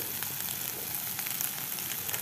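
Raw turmeric paste fries in a pan, giving a steady, close, dense sizzle that holds without a break for the whole stretch.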